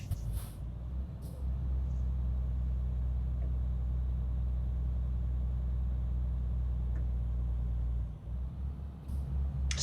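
Truck engine labouring uphill, a deep, steady low rumble that holds for about eight seconds before easing, with a brief hiss at the start, heard from inside the cab.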